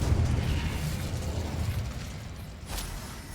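Incendio fire spell cast in the Hogwarts Legacy video game: a dense, loud rumbling burst of flame that roars steadily for several seconds, then a sharper crackling flare near the end, with no talking.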